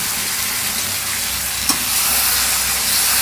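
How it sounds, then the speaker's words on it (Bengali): Rooster meat frying in a pan with onion, cloves, cinnamon and bay leaf makes a dense, steady hiss and sizzle, close and fairly loud, broken once by a brief knock, with no voices. "বেশি মোরগের মাংস রান্না হচ্ছে"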